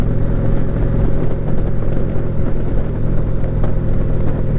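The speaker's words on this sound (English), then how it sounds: "to hear your exhaust and feel the wind" Steady, loud exhaust rumble of a 2017 Indian Springfield motorcycle cruising, a constant low drone with wind noise throughout.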